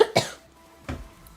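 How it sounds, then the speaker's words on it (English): Two sharp coughs from a sick person, one right at the start and another about a second later, close and fairly loud. "Sorry about the coughing."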